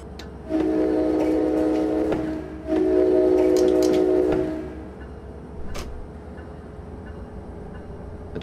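Amtrak-style ALP-45D locomotive in Train Simulator 2017 pulling into Bay Head Yard, sounding two long loud horn blasts back to back, then fading to a low rumbling engine with faint clicks.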